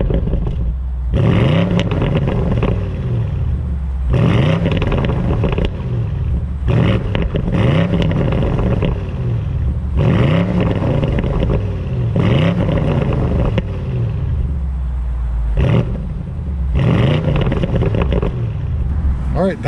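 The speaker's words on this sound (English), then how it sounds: "So obviously a very grunty and aggressive sound out of the V8." A 2021 BMW M850i Gran Coupe V8 in Sport Plus mode revving repeatedly, loud and close, with about seven rising blips separated by brief drops to idle, grunty and aggressive throughout.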